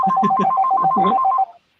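A corded wall-mounted telephone rings loudly and close, its electronic trilling bell pulsing in a fast steady pattern before stopping abruptly.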